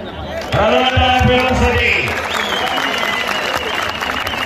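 Applause from a crowd at an outdoor wrestling ground in Vadgaon Sheri, Pune, rises suddenly and carries on as a steady patter, with a man's amplified, singing voice running over it.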